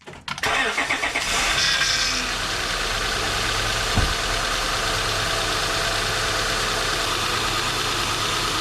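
A Honda Odyssey minivan engine, just fitted with a new power steering pump, cranks briefly and catches, then settles into a steady, loud idle heard up close in a garage.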